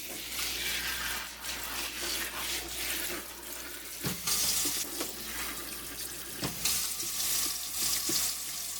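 Water runs steadily from a tap into a workshop sink while paper pulp for handmade paper soaks, a continuous close hiss and splash broken by a few louder knocks and clatters, with no voices.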